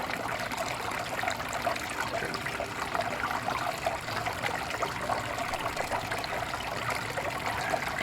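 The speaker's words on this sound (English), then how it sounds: "We may have to steepen the sluice because I think I've got the water turned up all the way and stuff still isn't moving all that well." Water runs steadily down a gold recovery sluice with the flow turned up fully, giving a constant, dense rushing and trickling wash that stays even throughout with no speech.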